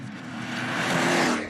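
A race car running in full race mode on a test track with traction control off passes by in one short, loud rush of engine and tire noise that swells and then fades, with no talk.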